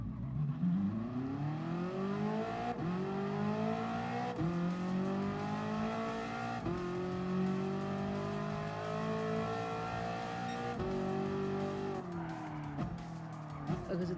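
The IsoRivolta Zagato VGT, a 560-horsepower, 1,050-kilogram Gr.X race car with a seven-speed gearbox in Gran Turismo Sport, accelerates hard through several rising gears, its engine revving up with abrupt shift breaks, steady and close.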